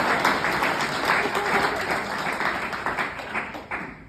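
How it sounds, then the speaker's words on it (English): A wedding audience gives a round of applause during a best man speech, dense clapping from many hands that stays strong and then thins toward the end. "Can we get a round of applause?"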